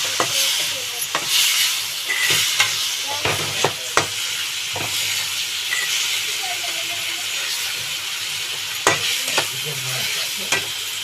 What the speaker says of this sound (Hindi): टमाट पकेकी भल से कषिबा